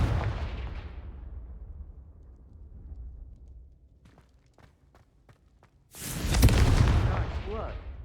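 A Confringo fire spell cast in Hogwarts Legacy bursts out loud and close, a roaring whoosh that fades over a couple of seconds, with faint ticking steps before a second loud blast.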